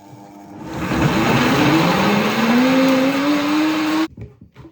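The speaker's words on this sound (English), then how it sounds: "it hasn't blended properly, so I need to continue blending it" A blender whirs loudly and continuously while blending vegan ice cream made with water. Its motor whine climbs in pitch as it churns, then cuts off abruptly near the end.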